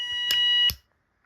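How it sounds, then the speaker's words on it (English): A fire alarm sounder on a system run from a 9-volt battery gives two short, sharp electronic beeps in quick succession, close and fairly clear, then falls silent. "every time the LED comes on, that sounder will activate"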